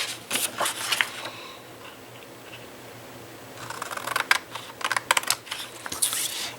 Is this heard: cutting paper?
yes